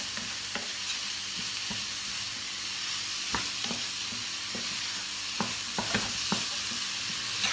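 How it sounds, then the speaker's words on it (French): Meat sears in a hot pan with a loud, steady sizzle and hiss, broken by sharp clicks and scrapes of stirring, with no voices. "Donc là, on va bien laisser saisir."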